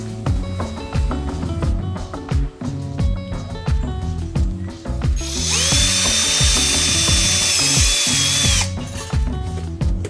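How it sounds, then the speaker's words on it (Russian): A power drill drills holes for a satellite helical antenna, running in repeated short bursts, then a longer continuous high-pitched whine before returning to choppy pulses, close and loud. "сверлим отверстия"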